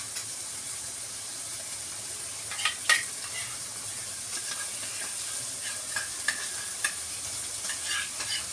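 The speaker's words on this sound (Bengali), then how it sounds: "এবার কাজু বাদাম বাটাটা দিয়ে দেবো।" Cashew paste goes into a hot frying pan for a katla fish rezala and gets stirred, a soft steady sizzle with a few sharper scraping stirs and crackles near the middle and end.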